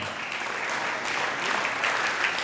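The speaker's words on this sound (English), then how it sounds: "keep clapping, ladies and gentlemen" Steady audience applause fills a cycling team presentation on stage, with dense, sustained clapping throughout and a little crowd noise mixed in.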